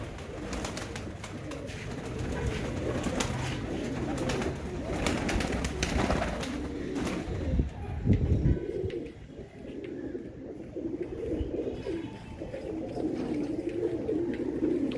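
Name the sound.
pigeons cooing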